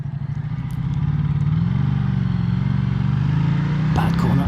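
A Ducati Diavel 1260s motorcycle being ridden, its engine holding a steady low drone throughout, rising slightly midway, with a brief rattle or clatter near the end.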